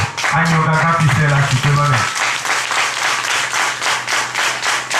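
A church congregation claps vigorously while voices cry out in acclaim at the start, then steady rhythmic applause continues over a low sustained musical hum.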